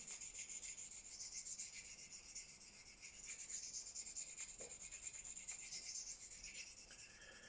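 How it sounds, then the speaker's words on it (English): A hand-held Venev diamond stone rubs along a knife edge to remove the burr, a continuous fine rasping scrape at steady volume, close and alone with no talking. "So we'll turn the knife over, and all we're going to do is take that burr off."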